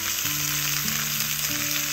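Food sizzles and fries in a pan at an outdoor day camp, a close, steady crackling hiss lasting the whole moment with no voices.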